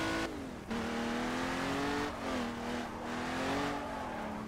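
An old Aston Martin race car roars steadily at high revs around an oval in a racing game, its engine note wavering as it shifts and lifts, close, loud and continuous with no talk.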